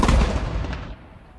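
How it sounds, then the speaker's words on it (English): Royal gun salute for Queen Elizabeth II's birthday: a single heavy cannon boom opens loud and close, its deep rumble rolling and fading over the following second with no voices. "will fire a royal gun salute on the occasion of the birthday of Her Majesty Queen Elizabeth II"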